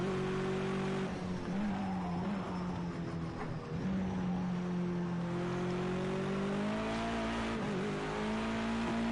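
A race car in Project Cars 2 slides into a corner at Brands Hatch, its engine droning steadily while tires squeal and skid under late braking, sustained and fairly close throughout.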